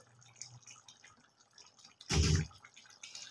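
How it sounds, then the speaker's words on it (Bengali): Hot water splashes into a cooking pot in one short, sudden pour lasting under half a second, louder than the quiet, faintly dripping background around it. "তাই জন্য আমি একটু জল দিয়ে দিলাম, কিন্তু সেটা গরম জল"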